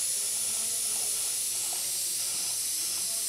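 Boiling coolant from an overheating Cadillac V8 engine hisses loudly and steadily nearby, a constant rush of steam with faint gurgling underneath and no talking.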